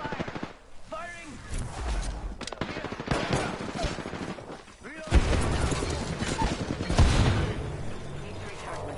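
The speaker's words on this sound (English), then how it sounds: "Taking fire! Firing!" P2020 pistol shots in a battle royale video game, repeated sharp cracks and bursts of gunfire mixed with heavy booms, all under frequent excited team chatter and in-game voice lines.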